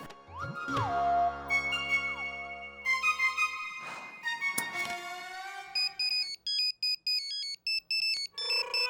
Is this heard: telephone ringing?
yes